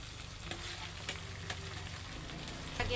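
Tofu sizzles and fries steadily in plenty of hot oil alongside browned pork, a continuous close crackle with a few brighter pops and no talk.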